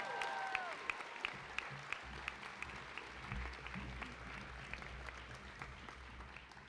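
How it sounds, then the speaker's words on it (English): A graduating class at a high school commencement ceremony receives a round of applause: a soft, distant, even wash of many hands clapping, with scattered sharper claps standing out across a large hall. "Let's give them one more round of applause."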